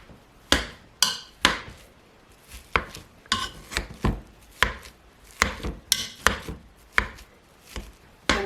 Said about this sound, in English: Now we'll take our potato masher and mash up these potatoes